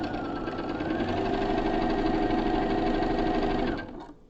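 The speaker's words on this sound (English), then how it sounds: "Now you will sew this more carefully than I am." A sewing machine stitches a quilt block in a steady, fast mechanical whir with a rhythmic needle knock, close and continuous for several seconds before slowing and stopping.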